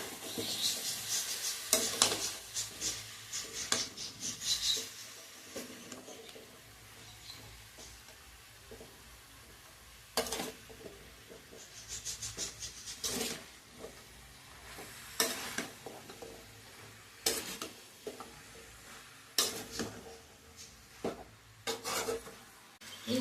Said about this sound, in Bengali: যে শাকগুলো কেটে রেখেছিলাম সেই শাকগুলো আবারও আমি ভালো করে নাড়াচাড়া করে এগুলোকে কষিয়ে নেব